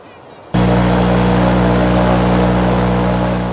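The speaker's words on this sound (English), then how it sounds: "to the roar of an engine, which can be 100 million times louder." A loud engine roar cuts in abruptly after a moment of near quiet, then holds as a steady, powerful drone that eases off slightly toward the end.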